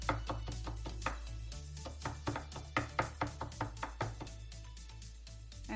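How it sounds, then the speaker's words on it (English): A knife finely chopping garlic cloves on a cutting board, producing a steady series of crisp, close knocks about twice per second with no talking. "we are going to chop it very finely"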